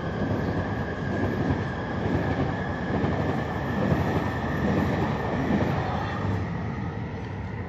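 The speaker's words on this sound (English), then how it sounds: "This is class 345." A Class 345 train on the main line through Stratford rumbles steadily past, close and loud, with continuous wheel and carriage noise and no talking.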